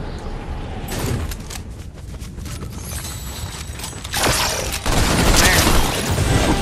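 Gunfire in a video game aimed at the player, with a dense clatter of shots and mechanical rattling that swells into louder bursts near the end, close and loud.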